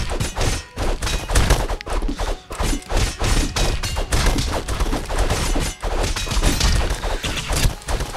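Gunfire and impacts in the video game Castle Crashers form a loud, dense string of rapid shots, thuds and crashes, with short gaps between bursts.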